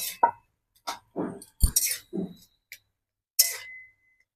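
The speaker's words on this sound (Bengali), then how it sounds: "ধনে পাতাটা দিয়ে ভালো করে মিশিয়ে নেব আমি" Potato paratha filling is mixed with chopped coriander leaves in a bowl, making a few separate close scrapes and light clinks of a utensil with quiet gaps between them.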